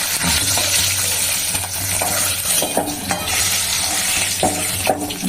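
Oil sizzles steadily in a pan on a home stove, close and continuous, broken by the clicks and scrapes of a utensil stirring and tossing the food for a katla fish curry. No one speaks.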